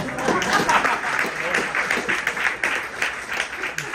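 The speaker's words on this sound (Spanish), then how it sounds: "Se lo aplaude porque ha llegado, hombre." A panel audience claps in sustained applause, a brisk, irregular patter with voices mixed in under it.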